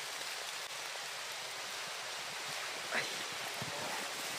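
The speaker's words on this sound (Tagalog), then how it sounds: "Mapapansin niyo po ay umuulan" Steady outdoor rain falls with a soft, even hiss and faint patter, distant and low in level, with no voices over it.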